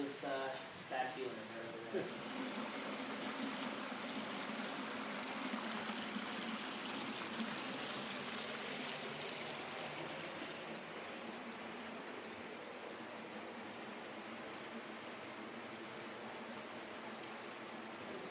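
Water trickles and drips steadily inside a marble cave in Oregon, a faint continuous wash of hiss that stays constant throughout, with a person's voice present.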